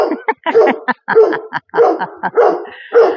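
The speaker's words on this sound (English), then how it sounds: "this barking dog is kind of annoying" A dog barks over and over in quick, loud bursts, close by, with no talking.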